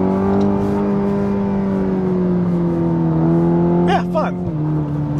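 A 2021 Cadillac CT4-V sedan in V sport mode pulls hard, its engine note rising steadily and loud and close, with a brief shift-like dip near the end and a voice briefly heard underneath.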